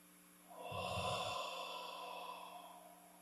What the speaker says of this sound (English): Breathing out slowly and gently.